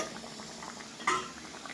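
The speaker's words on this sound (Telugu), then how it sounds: "ఉడుకుతుందండి." Gongura leaves for Andhra-style pickle bubble softly in a covered pot, a faint steady simmer with a single clear metallic clink from the pot or lid.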